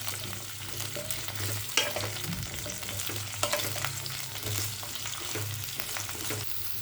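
Diced potatoes being sautéed in a pan for aloo gobi (cauliflower and potato curry) give a steady, close sizzle and fry with occasional stirring scrapes, no talk.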